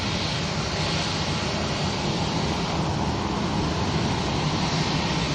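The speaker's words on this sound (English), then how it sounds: "Waiting for that Ryanair to land." A Ryanair airliner arriving from Rome lands at Manchester Airport, its engines giving a steady, broad roar with wind noise throughout, heard alone without talk.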